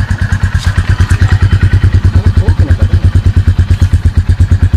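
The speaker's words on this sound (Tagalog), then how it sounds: "Napaganda pa ng kanyang makina." A Yamaha Sniper 135 motorcycle engine idles close by, its loud, even chugging pulses repeating rapidly and steadily with a slight mechanical clatter on top.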